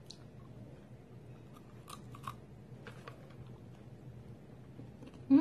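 Someone chews a large green milk-filled almond sweet, giving soft wet mastication with a few brief crunchy bites over a low hum, close and fairly quiet with no talk.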